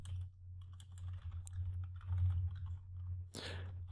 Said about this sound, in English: Talking and typing.